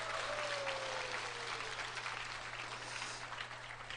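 A business meeting audience gives sustained applause for the company chairman at a policy presentation, a broad even clatter of many hands that tapers slightly toward the end, with no voices over it.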